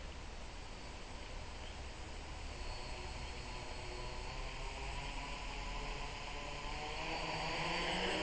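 A BumbleBee 550 multirotor drone spins up its propellers and lifts off, a loud, steady buzzing whine that swells slightly louder toward the end.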